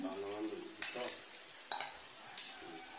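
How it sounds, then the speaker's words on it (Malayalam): Egg and tapioca being stirred together in a pan for a spicy street-stall dish, giving a few scraping, clattering spoon strokes over a faint sizzle, close and moderately loud, with no talking. "ഇനി നമുക്ക് കുറച്ച് കുറച്ച് കൊള്ളിയായിട്ട് ഇട്ടിട്ട് ഒന്ന് മിക്സ് ചെയ്ത് കൊടുക്കാം."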